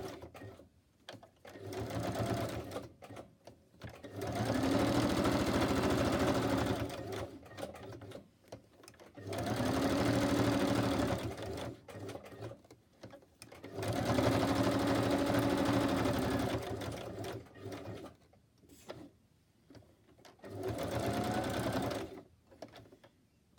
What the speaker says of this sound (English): I'm just going to do my normal stitching around